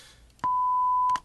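A steady 1 kHz sine test tone from the Pro Tools Signal Generator holds clean and loud for about three quarters of a second between soft clicks, with no one talking.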